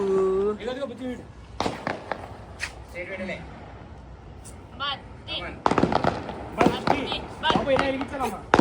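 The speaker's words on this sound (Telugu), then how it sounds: "ఎక్కడ పడితే అక్కడ పటాకులు వెళ్తున్నాయి" Firecrackers go off during a Sankranti celebration as scattered sharp bangs and pops, some close and loud and others further off, with people talking over them.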